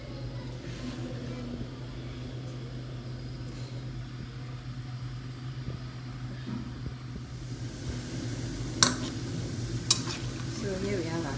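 Chin chin dough fries in heated oil, giving a steady, close hiss and bubbling sizzle throughout, with a couple of brief sharp clinks near the end.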